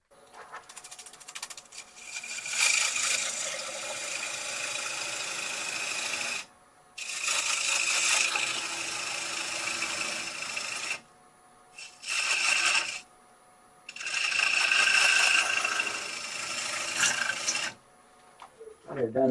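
A gouge cuts a wood bowl on a lathe, turning it from a log to a thin wall. The rough rasping cut comes in several bursts of a few seconds each, separated by short pauses.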